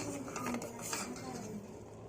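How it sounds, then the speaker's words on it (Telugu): A ladle stirs sugar and water in a pot to dissolve the sugar for gulab jamun syrup, giving soft scraping and light metallic clinks over a faint background hiss. "ఇలా గరిటెతో కలుపుకుంటూ చక్కెరని మొత్తం కరిగించుకోవాలి"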